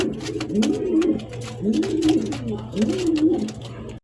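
A Sirazi pigeon coos close by in three rhythmic rolling phrases, each about a second long, over a low steady hum with faint clicks.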